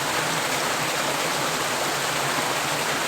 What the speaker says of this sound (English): This is the dreaded waterfall.